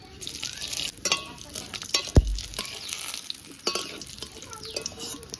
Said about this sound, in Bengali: মাছ তো ভাজা হয়ে গেছে, ওই তেলে আমি এখন জিরে আর তেজপাতা দিয়ে দেবো।